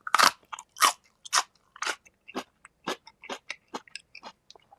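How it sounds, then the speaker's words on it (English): Crisp, close crunching as fresh indoor-grown garden vegetables are bitten and chewed, with sharp snaps at first, then a steady series of smaller crunches fading slightly, no talking. "the crunch with these things is out of this world."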